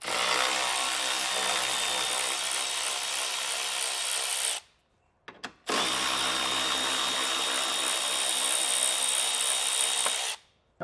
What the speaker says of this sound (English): That's going to expose the 10mm bolts that we're going to remove across the top.